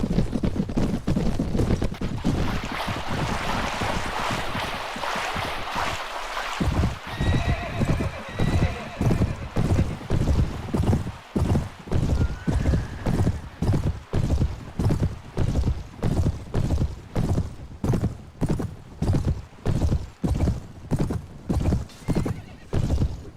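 Rhythmic clip-clop of horse hooves with a loud neigh, set against a busy battle din of distant gunfire and voices in Mount and Blade: A Clash of Kings.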